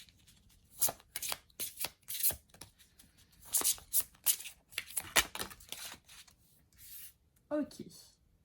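Tarot cards being shuffled for an astrological reading, with a run of soft, papery riffles and slides close up, followed by a brief voice near the end.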